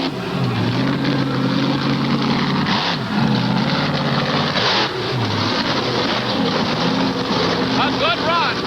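Buffalo Tremor monster truck launching off the starting line at a 1988 monster truck racing event, its engine a loud, continuous low roar that rises and shifts in pitch throughout, with crowd and commentary noise mixed in.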